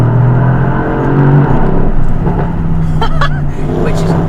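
The 577 bhp Mercedes-AMG GLE 63 S Coupé's engine is heard as a loud, close, sustained engine roar with rising and falling revs, accompanied by chirpy mechanical and tyre-like noises near the end.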